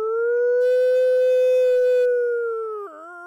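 A person's voice imitates a wolf howl outdoors: one long, loud, sustained tonal howl held steady for a couple of seconds, then fading and breaking slightly at the end, with no other voices.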